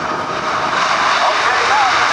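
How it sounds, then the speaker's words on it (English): The jet engines of a C-17 Globemaster III roar in reverse thrust just after touchdown at an airshow at NAS Oceana, a loud, broad, sustained rush that stays steady throughout, with a voice talking over it. "nacelles where the jet exhaust will be deflected frontwards to provide a superior braking power"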